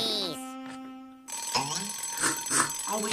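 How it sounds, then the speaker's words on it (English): An alarm clock rings in a Woody Woodpecker cartoon, a shrill, clanging bell that starts, cuts off briefly and resumes, heard amid cartoon voices and exclamations. "Oh, will you shut up, alarm clock?"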